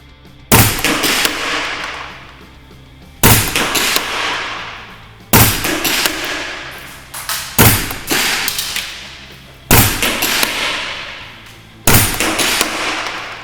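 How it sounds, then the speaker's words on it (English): A WE SCAR-L MK16 gas blowback airsoft rifle running green gas fires six single shots at a 30-metre range, each a sharp loud crack with a decaying clatter, spaced a couple of seconds apart. "So, we're running green gas, 30 metre range."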